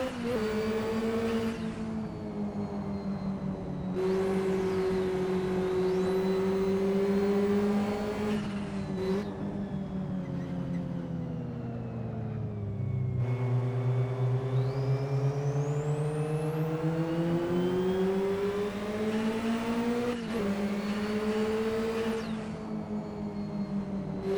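Simulated BMW 2002 engine in the NetKar Pro racing game, revving steadily on the Newbury track with rising and falling pitch through gear changes, loud and continuous with no talking.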